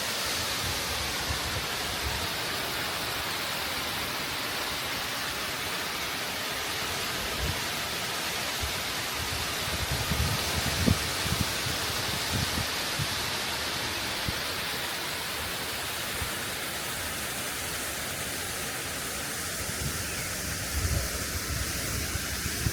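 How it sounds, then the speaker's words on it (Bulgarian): The Hotnitsa waterfall near Veliko Tarnovo, swollen after recent rain, sounds from a distance as a constant, even roar of falling water with a few soft low thumps along the way. "Ето е водопада по-високо."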